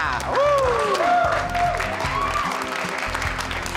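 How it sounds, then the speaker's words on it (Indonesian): Studio audience clapping and cheering at the opening of the Celeb Wannabe TV show, with broad crowd applause under a sweeping musical jingle and whoops, loud and continuous. "Tepuk tangannya"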